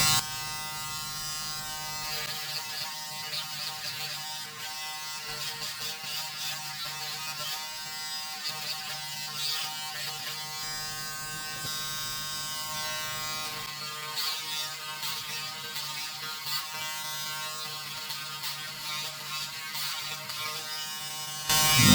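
A Braun Series 5 electric shaver buzzes steadily and close up throughout, its motor tone shifting slightly as it moves over stubble, with no talking.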